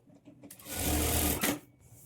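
A sewing machine runs in a short, steady burst while stitching a sleeve piece onto a plain blouse, close and clear, with soft handling noises before and after.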